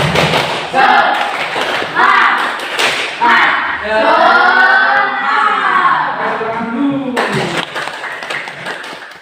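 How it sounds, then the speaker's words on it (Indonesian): Classroom students in an Indonesian primary school perform a rhythmic spirit clap, sharp patterned claps and thumps alternating with a chanted group voice, loud and close in a room. "Tepuk semangat."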